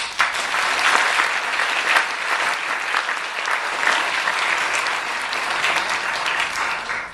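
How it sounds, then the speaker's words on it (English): A large room of dinner guests at the Asia Society Awards Dinner 2013 applauds an award, a loud, sustained, even roar of clapping lasting around seven seconds with no speech. "Please give a round of applause to it."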